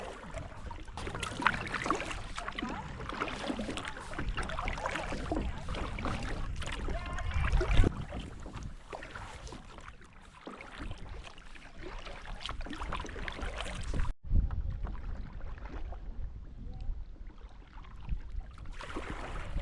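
Kayak paddling on the Suwannee River in wind, with broadband water and wind noise throughout, brief bumps and splashes, and a sudden drop to quieter sound near the end.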